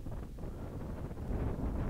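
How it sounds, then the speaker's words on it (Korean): Steady, strong wind at a mountain summit, Daecheongbong peak of Seoraksan, buffets the microphone with a dense, low rumble that continues without a break. "대청봉 정상에 바람 소리가 너무 심하여 소리를 줄였습니다"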